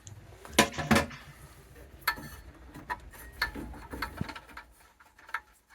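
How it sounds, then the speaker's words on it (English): Undoing a bolt to loosen the fan on an Ideal Logic Plus combi boiler, heard as close metallic clinks and scattered ticking taps of a tool, irregular and fairly faint, no talking. "Now we need to loosen the fan by undoing this bolt."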